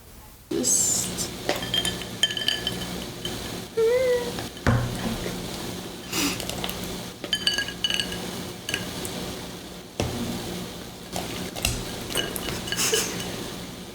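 Dishes and cutlery clink repeatedly around a pot as leftover dango are lifted out after a failed cooking attempt, with scattered sharp clinks and a few high cat-like squeaks over a steady room background.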